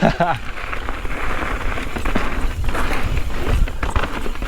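Rain falling around a mountain biker riding a trail, a steady broadband patter mixed with tyre and gear rumble throughout, fairly loud and close, with no talk.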